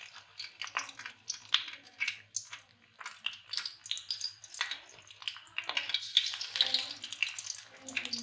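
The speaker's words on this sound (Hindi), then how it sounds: "घी अच्छी तरह गर्म हो चुका है। अब हम मछली को इसके अंदर डालेंगे।" Pieces of fish coated in gram flour fry in hot ghee, giving an uneven, crackling sizzle with rapid pops and bursts close by over a faint low hum, with a few brief spoken words.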